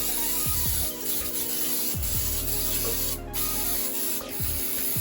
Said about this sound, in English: let's go ahead and spray our pan